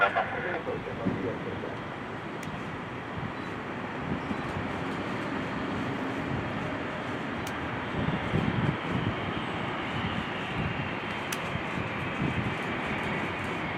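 A Boeing 747-400 arriving at Birmingham airport: a broad, steady engine roar that holds at a fairly even level throughout, heard from a distance without talk.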